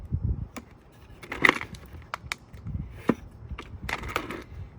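Wooden dowels are pried loose from concrete in a bucket, giving a series of close crunching, cracking snaps and scrapes with quieter pauses between the bursts.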